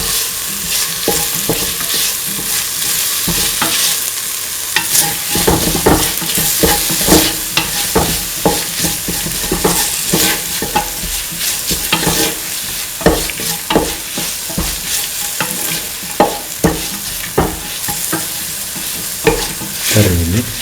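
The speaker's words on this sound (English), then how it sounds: "Thoroughly saute and mix." Chili duck made with Kashmiri chilies is sautéed and mixed in a pan: a loud, continuous sizzle with frequent scraping and clattering strokes of a spatula at a busy, irregular rhythm, with no voices.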